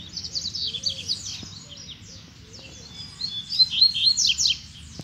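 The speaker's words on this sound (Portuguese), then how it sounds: "A fêmea tá piando." A small female seedeater (coleiro) chirps in quick, high twittering bursts, close by, with a faint low murmur of background noise underneath.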